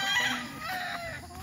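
Hen clucking on a gamefarm, close and clear over a busy background of other chickens, with a rooster-like call mixed in, continuous through the short stretch.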